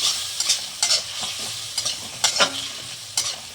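Fish fat frying in oil, a lively sizzle punctuated by repeated scraping stirs at an uneven pace, loud and close with no voices.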